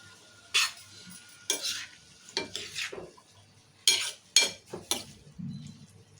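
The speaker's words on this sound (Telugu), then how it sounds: "ఒక్క చుక్క నీరు పోసుకొని మళ్ళీ ఇట్లా కలిపి మంచిగా కలుపుకుంటే ఉప్పు కారం మంచిగా చిక్కుడుగా పడుతుంది" Broad bean curry with salt and chili powder is stirred in a pan, with repeated scraping and clinking strokes of a spoon against metal over a faint sizzle, at an unhurried, irregular rhythm.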